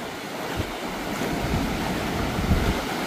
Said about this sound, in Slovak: Ale teda ten oceán je naozaj rozbúrený, že tie vlny sú obrovské.